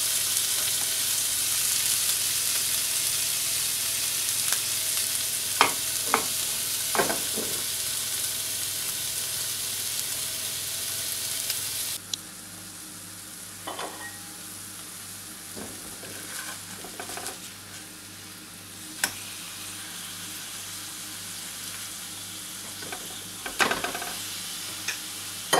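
Salmon cooking in a pan over a slow flame gives a steady sizzle throughout, with a few sharper scrapes and stirring clicks scattered across it; the hiss drops slightly partway through, and no one speaks.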